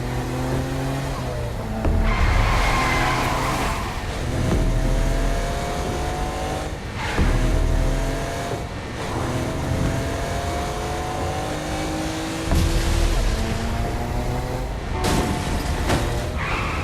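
Cars driving through hell in Saints Row: Gat out of Hell, a steady engine drone with revving bursts and passing swells, heard close and continuous without talk.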